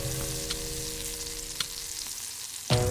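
Coated pork slices frying in oil in a hot wok, a continuous bright sizzle with a low hum beneath, a few light clicks and a sharper clang near the end.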